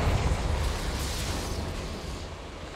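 A Confringo blast spell cast in Hogwarts Legacy erupts as a loud, sustained explosive roar with heavy low rumble, fading slightly over nearly three seconds, with no talking.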